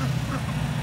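Ducks and geese quacking and honking among other poultry at a large outdoor traders' fair, a steady dense chorus of birds close by with no talk.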